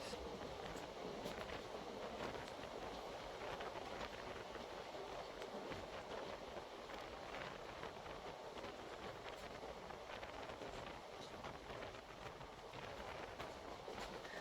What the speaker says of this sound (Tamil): அந்த காற்று அந்த ட்ரெயின் ட்ராவல் சத்தம்